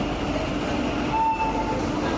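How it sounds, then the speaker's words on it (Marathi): A train arriving at a station rumbles steadily nearby with a continuous mechanical roar and a faint high whine, loud and sustained throughout. "नागपूरवरूनच एक ट्रेन यायला लागली आहे"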